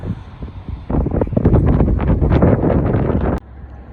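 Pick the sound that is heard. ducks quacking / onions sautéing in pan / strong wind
strong wind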